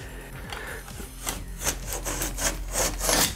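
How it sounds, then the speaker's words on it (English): A handsaw rasps through drywall wallboard during a tub and shower renovation, close-up back-and-forth strokes that speed up and grow louder toward the end, with no voices. "Just cutting this wallboard right here."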